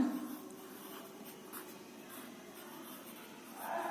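A pen or marker writing out a question during a young children's Hindi lesson, a soft steady scratching that runs on without a break at moderate loudness, with no speech over it.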